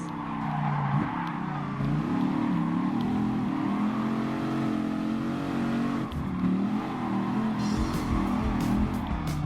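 Dodge Viper racing downhill in Gran Turismo Sport: a steady, loud engine drone with rising and falling revs and gear shifts, a brief dip midway, and tyre or gravel noise near the end.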